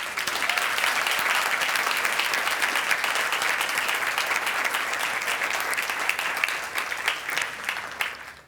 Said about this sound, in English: can we please get a round of applause for everybody who has worked so tirelessly to put this show together